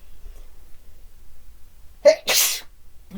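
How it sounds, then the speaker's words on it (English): A single sharp sneeze from someone sewing a quilt, a brief voiced intake followed by a loud breathy burst, alone in a quiet room. "That's making me sneeze, ain't it?"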